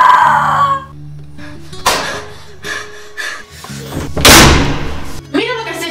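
A door is forced open and slams, giving several heavy thuds and bangs with loud strained breathing and shouting mixed in, close and harsh.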